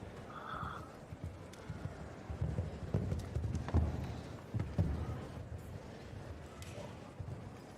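Horse hooves clip-clop on the arena surface during a show jumping class at the Longines Christmas Cracker, a few distinct thuds amid crowd ambience, with a faint whinny early on.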